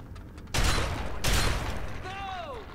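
Two heavy, booming shotgun blasts from Fallout 3 on Xbox Series S, fired in close quarters inside a vault, each followed by a rumbling tail, with a voice briefly heard after them.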